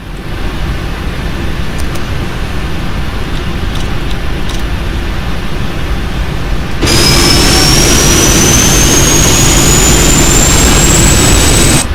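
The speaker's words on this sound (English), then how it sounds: "Start engines 2 and 1." Jet engines 2 and 1 of a PMDG 747-8F in the Prepar3D flight simulator spool up: a steady loud roar, then a sudden louder surge with a rising turbine whine that climbs steadily in pitch.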